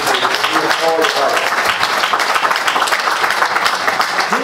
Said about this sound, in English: I think we need to give him a big round of applause for this transformation